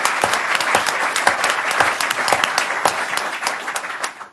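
Local elected officials and guests applaud a county executive at a governor's event, a crisp, loud burst of many hands clapping with distinct sharp claps standing out, tapering slightly near the end.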